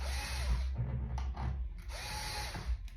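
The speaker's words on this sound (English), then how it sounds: "So I'm gonna put the hinge in and then just do little starter holes" A power drill boring small starter holes for door hinge screws on a French door project, in two short whirring bursts close by with brief pauses between them.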